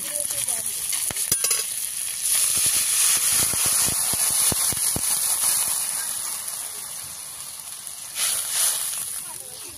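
Water poured over a fish head already fried in a hot pan in a Bengali home kitchen, hissing and sizzling in a steady, loud wash that runs for about ten seconds, with brief sharp crackles early on and a short surge near the end.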